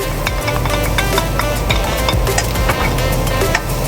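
Garlic dropped into hot oil in a frying pan for a giniling with potato and carrots, sizzling loudly and continuously up close, with occasional clinks of a utensil against the pan.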